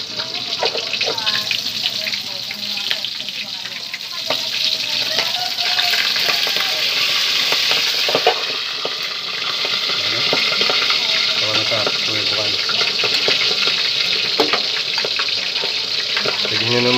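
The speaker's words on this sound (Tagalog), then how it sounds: "Kaya kaso guys, hindi pwede kasi pumuputok yung mantika, baka maano tayo sa mukha." Milkfish frying in hot oil that keeps popping, a steady close broadband sizzle with scattered sharp crackles throughout and faint voices now and then.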